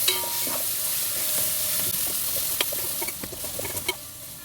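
Onion, green chili, ginger-garlic paste and turmeric stirred in a hot pan for Telangana-style bottle gourd dal, giving a steady close sizzle with scraping spoon strokes that grow more distinct toward the end.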